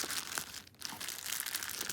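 Crinkling, crunching packaging handled while unboxing a Hugo Boss wallet, steady close crackles and rustles filling the whole stretch with a brief lull midway.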